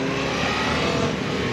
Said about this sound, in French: Ce que t'entends, le groupe, c'est l'admission d'air en fait.